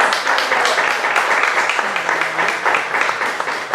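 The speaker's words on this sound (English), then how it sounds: "Can you have a round of applause?" A crowd applauds, a dense wash of clapping that holds steady for a few seconds without pause.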